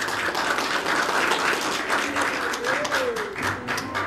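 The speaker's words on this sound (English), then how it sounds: "everybody clapped" Church audience clapping in approval, a continuous, fairly even wash of applause from many hands throughout, with a faint voice briefly audible beneath it.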